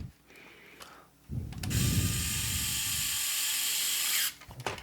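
An electric screwdriver whirs for a few seconds at close range, backing small case screws out of a Nintendo Switch controller, with clicks and handling sounds before and after.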